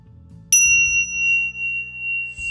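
Tibetan tingsha chimes struck once to open a singing bowl massage session, giving a bright, sustained metallic ring that lingers and slowly fades in a quiet room.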